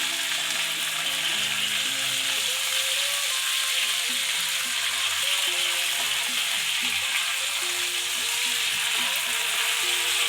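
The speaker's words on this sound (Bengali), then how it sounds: "মাছটা ভাজা হবে, কিন্তু ভাজা খাওয়ার মতো না।" Pomfret fish fries in a pan with a steady, dense sizzle that runs unbroken throughout, close and fairly loud, with faint tonal sounds underneath.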